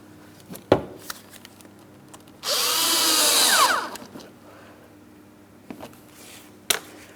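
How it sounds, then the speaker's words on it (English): A power tool tightens an 8mm headed clamp on the air filter housing of a 2003-2007 Cadillac CTS, giving one loud, close burst of whirring lasting about a second and a half between a few quiet clicks and taps. "we're going to tighten our 8mm headed clamp"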